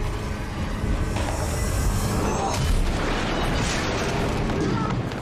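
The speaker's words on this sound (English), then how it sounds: "Those are baby explosions." Explosions from a superhero action TV series, a dense, continuous rumbling wash of booms and blasts with broad crackling noise, loud and sustained throughout.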